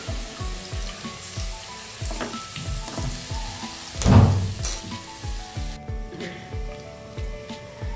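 Garlic ginger paste added to hot frying oil with onions for a vermicelli pulao. A steady close sizzle with rhythmic stirring scrapes, a louder crackling flare midway, then continued frying.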